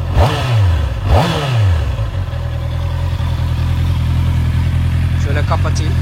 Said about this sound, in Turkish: motorun sesi bence gayet tatminkar